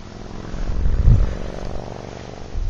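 An XHeli Blue Ray radio-controlled helicopter flies nearby with a steady buzzing rotor drone that swells briefly louder around its midpoint, then settles, with no talking.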